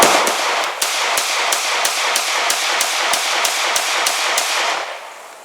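Rapid string of sharp handgun shots fired one after another at an outdoor range, about fourteen loud cracks in a steady, quick rhythm, ending as the magazine runs out.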